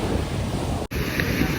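Sea waves washing up on Kaapu beach in Udupi, a brief steady rush of surf with wind buffeting the microphone, broken by a momentary dropout.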